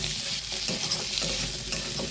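Turmeric powder being stirred into potatoes and spices in a hot cooking pan, giving a steady close-up sizzle with repeated scraping strokes throughout.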